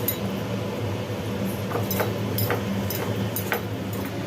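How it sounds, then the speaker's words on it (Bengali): Fried spices being ground for a vegetarian Bengali shukto, heard as a few sharp clinks and taps of stone or metal scattered over a steady low kitchen hum, with no talking. "এদিকে যে মশলাটা ভাজা হলো সেটাকে গুড়িয়ে নেওয়া হচ্ছে"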